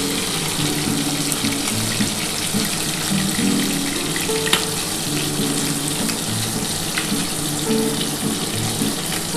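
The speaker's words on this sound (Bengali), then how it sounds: "দেখো, খুব ভালোভাবে আমার মাছটা কিন্তু ভাজা হয়ে গেছে বন্ধুরা।" Tilapia fish pieces fry in hot oil in a pan, a steady, dense crackling sizzle that runs evenly throughout with no voices.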